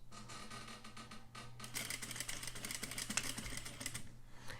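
An industrial overlock sewing machine stitches a closed topstitch seam on fabric, its quieter idle hum giving way to fast, dense mechanical chattering as the stitching starts, close and continuous.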